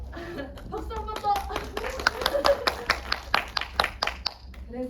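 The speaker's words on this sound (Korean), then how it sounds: "박수 한 번 더." A lecture audience claps for an introduced painter, a dense patter of many hands running for several seconds at moderate loudness, with bursts of louder claps.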